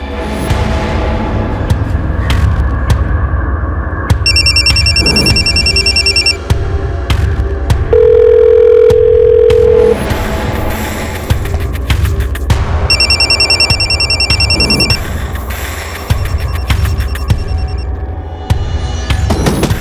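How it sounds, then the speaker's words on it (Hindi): Twice a phone's ringtone trills over throbbing, dramatic background music, the rings repeating with no one picking up. "फोन क्यों नहीं उठा रही?"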